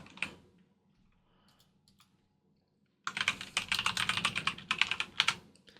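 Typing on a computer keyboard while entering business account details: after a quiet stretch with soft scattered clicks, a dense, steady run of close, crisp keystrokes begins and continues to the end.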